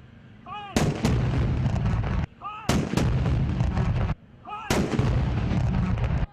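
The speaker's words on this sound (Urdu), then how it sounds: "وفاقی دارالحکومت میں 31 جبکہ صوبائی دارالحکومتوں میں 21 توپوں کی سلامی دی گئی۔" Ceremonial artillery gun salute on a national commemoration day, three heavy booming rounds fired at steady intervals of about two seconds, each loud and close with a long rumbling decay.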